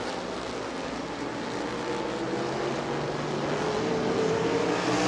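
Race cars circle the New Smyrna racetrack in a continuous engine roar, a steady droning whine from the pack that stays fairly even and grows slightly louder toward the end.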